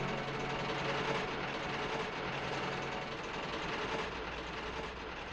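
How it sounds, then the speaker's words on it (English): A diesel engine train crosses the points onto the main line, heard as a faint, steady low rumble of engine and rolling wheels that holds evenly without any voices. "Diesel crossed angrily over the points onto the main line and was soon out of sight"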